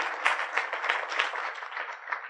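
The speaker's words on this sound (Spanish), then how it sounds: "Pido un aplauso para los ponentes de este módulo." Conference audience applauding the speakers at the close of a round-table session, a steady wash of many hands clapping with no pauses, moderately loud and continuous throughout.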